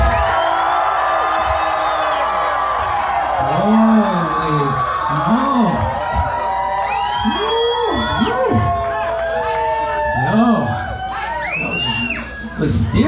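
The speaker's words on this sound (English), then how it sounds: "Now somebody, anybody, everybody scream." Concert crowd at a live performance screaming, whooping and cheering loudly, many overlapping voices with rising and falling shrieks sustained across the whole stretch, fading slightly near the end.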